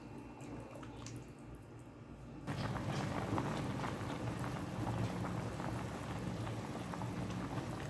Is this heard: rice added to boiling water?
yes